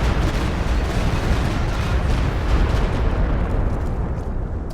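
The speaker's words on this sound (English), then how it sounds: "Mortars getting out of the way of that Stuka barrage" Dense, continuous barrage of explosions from Stuka dive bomber strikes in the World War II strategy game Company of Heroes 2, a thick rumbling roar of overlapping blasts sustained throughout with no speech.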